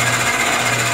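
A twist drill boring a hole in wood in a woodturning workshop, giving a steady, loud mechanical whir with a constant hum that runs unbroken through the whole second, close by and with no talk.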